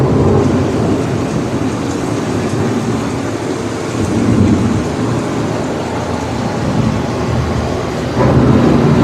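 Simulated thunderstorm on EPCOT's Living With The Land boat ride, a loud continuous wash of rain and rumbling thunder with a low, steady roar throughout.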